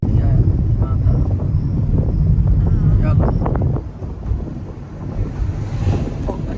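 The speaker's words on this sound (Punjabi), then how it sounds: "ਠੰਡੀ ਹਵਾ ਆ ਰਹੀ" Cool air rushes in through an open car window while driving along a road, making a loud, steady windy roar and buffeting that eases slightly partway through.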